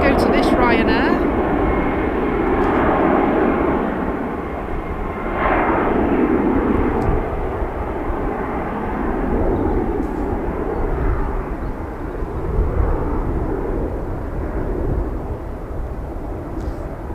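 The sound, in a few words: Ryanair airliner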